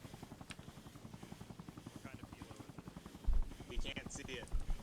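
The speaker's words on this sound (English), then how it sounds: "Helicopter front. I hear it." A helicopter in the military video game ARMA Reforger thumps with fast, steady rotor beats at a distance, with scattered gunshots breaking in toward the end.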